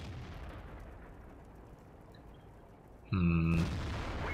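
A single tank cannon shot in the World of Tanks video game, a sudden loud boom with a ringing tail after a quiet stretch of low background rumble.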